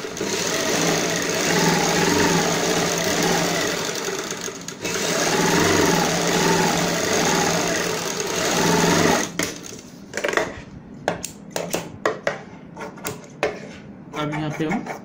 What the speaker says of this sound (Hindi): इसी प्रकार हम दूसरी साइड भी आधा इंच चौड़ाई वाली सिलाई लगाते हैं।